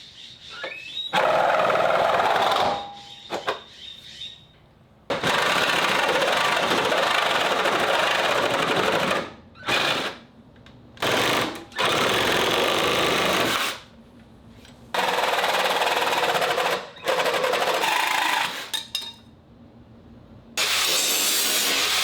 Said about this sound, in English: got a metal blade on the reciprocating saw, and we're gonna see if we can't artistically trim some material off of here